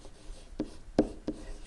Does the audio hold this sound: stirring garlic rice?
no